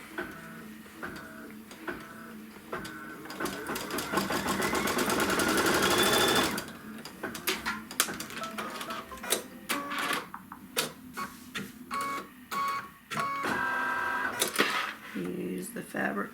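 Sewing machine stitching a quilt block seam for a Kimberbell wallflower quilt, a fast steady whirring run for several seconds followed by short stop-start bursts and clicks, close and fairly quiet, with a voice speaking in between.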